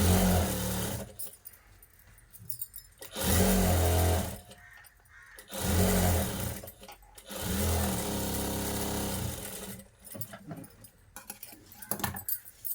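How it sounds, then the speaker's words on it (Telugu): A sewing machine stitches the folded-over edge of a lace blouse, running in several loud, whirring bursts of a few seconds each, separated by quieter pauses. "ఇలా కట్ చేసుకున్న తర్వాత లోపల వైపుకు ఫోల్డ్ చేసుకుంటూ ఒక కుట్ట వేసుకోవాలండి"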